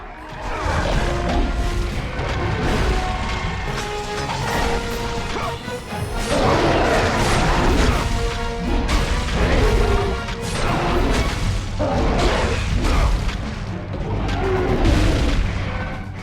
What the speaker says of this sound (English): Achieve bonus points by stone shattering at least 2 enemies.